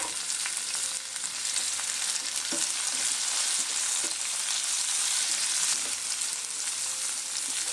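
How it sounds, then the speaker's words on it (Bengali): Tomatoes and other vegetables frying together in hot oil in a pan for a paneer, cauliflower and potato curry, giving a steady loud sizzle throughout with occasional stirring scrapes and no talking. "এবার একই সঙ্গে সবগুলো আমি ভেজে নেব"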